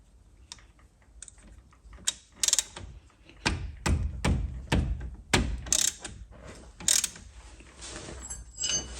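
Ratchet loosening the 13mm caliper slide bolts on a VW Golf MK7 front brake, a series of sharp clicking bursts and metallic taps, close and irregular, with no talking.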